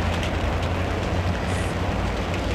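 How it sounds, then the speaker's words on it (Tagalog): Heavy rain pouring steadily, a dense unbroken hiss and low rumble filling the whole stretch at a constant level, with no voices. "Kabaskog sang ulan."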